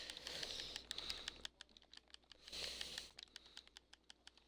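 Quick bursts of typing on a computer keyboard, close and quiet, with irregular clusters of clicks and short pauses and no talk.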